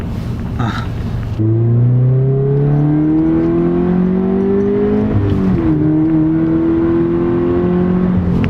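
A loud car engine on a Subaru BRZ / Scion FR-S / Toyota GT86 with a newly installed aftermarket exhaust revs up, holding a throaty rising growl that dips briefly then climbs again, close and steady.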